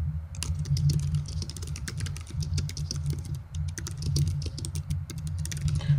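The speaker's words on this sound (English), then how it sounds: "So you can see as I'm typing," Someone types quickly on a computer keyboard while testing a text editor. The keystrokes form a dense, even patter of light clicks over a low steady hum.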